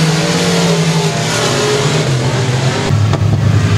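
A race car roaring across the finish line under the checkered flag at Sabine Speedway, its engine loud and close with a sustained droning rev that shifts pitch as it passes.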